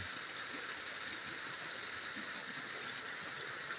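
Heavy rain pours down outdoors near a banana planting, a dense, steady hiss of falling water without pause or voices.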